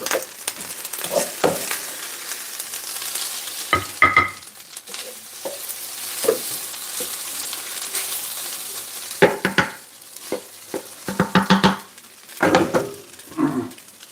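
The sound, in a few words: food frying and being stirred in a pan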